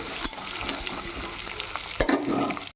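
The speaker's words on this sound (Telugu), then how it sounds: "అవి కూడా బాగా ఫ్రై కానిద్దాం." Onions, green chillies and tomatoes fry in a pan with a loud, steady sizzle, broken by scraping stirs and a sharp clack near the end, close up and without voices.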